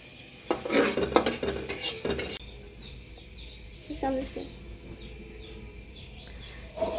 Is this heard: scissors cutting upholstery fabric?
no